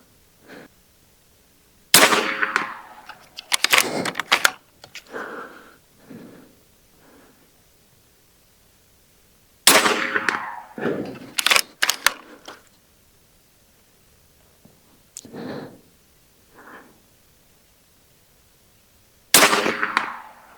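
Hatsan Factor bullpup regulated Carbon .357 air rifle firing, a series of sharp close cracks with clattering action noise in between, arriving in spaced groups separated by quiet pauses.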